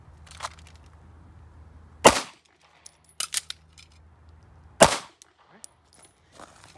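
Two loud, sharp pistol shots from a dot torture drill, spaced a few seconds apart outdoors, with faint clinks and small rustles between them and no voice.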